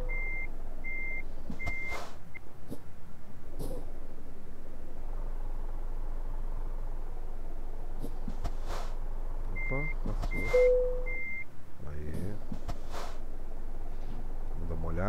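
Truck air system hiss and release bursts in Euro Truck Simulator 2, heard alongside reversing beeps and engine rumble, with someone talking over the game sounds.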